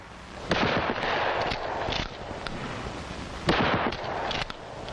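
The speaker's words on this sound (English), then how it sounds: "Hip firing is used at close range, where most confrontations do occur." Repeated gunfire from a shotgun fired from the hip at close range, as in a 1965 FBI training film, with loud sharp blasts in bursts and a steady noisy rumble between them.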